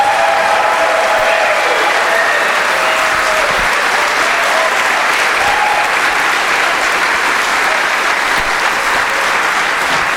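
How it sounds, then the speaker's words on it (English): A large live audience in Chicago breaks into loud, continuous applause, dense and unbroken with some cheering mixed in, steady throughout. "we need a round of applause"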